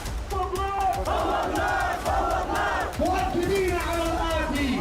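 A large armed crowd of Houthi supporters in Yemen shouts and chants at a rally, a dense, continuous roar of many voices with rising collective cries throughout, loud and close.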